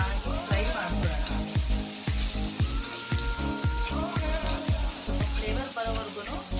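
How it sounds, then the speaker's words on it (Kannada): Garlic paste fries in a pan for shavige upma, giving a steady sizzle with sharp clinks from stirring, while a person talks over it. "ಬೆಳ್ಳುಳ್ಳಿ ಪೇಸ್ಟ್ ಅನ್ನ ಹಾಕೊಳ್ತಾ ಇದ್ದೀನಿ. ಚೆನ್ನಾಗಿ ಫ್ರೈ ಮಾಡ್ಕೊಳ್ಳೋಣ."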